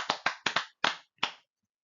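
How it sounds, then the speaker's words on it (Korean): A handful of sharp hand claps during a Korean early-morning church prayer service, six distinct smacks in an uneven rhythm, close and clear against silence, then quiet. "하나님께 영광의 박수."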